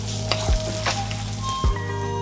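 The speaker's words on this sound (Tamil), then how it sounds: "அதையும் இது கூட சேர்த்து நல்லா ஃப்ரை பண்ணுறோம்" Onions fry in a pan with a loud, close sizzle, cooked for a chicken and bell pepper prawn dish. Two or three quick spatula knocks and stirs cut through the frying, and no one talks.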